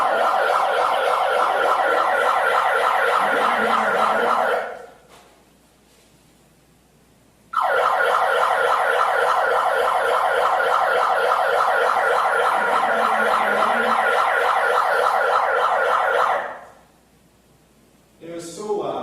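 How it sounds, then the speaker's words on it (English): A bullhorn blares a loud, harsh electronic siren in a warbling wail on a sidewalk, in two long bursts separated by short silences, with the second burst starting up again at the end. "come back with a bullhorn and blare an obnoxious siren for 7 minutes"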